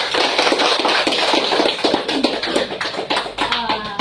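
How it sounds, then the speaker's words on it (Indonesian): A secondary school catechism class claps together in a classroom: a dense, steady patter of many hands that runs for several seconds, with a voice speaking over it. "Tepuk tangan untuk kita semua hari ini"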